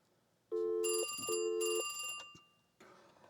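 An internal intercom call rings through a Panasonic KX-TA824 analog PBX phone system: two clear electronic ring bursts close together, loud and near, followed by a fainter tail and a brief soft sound, with no talking.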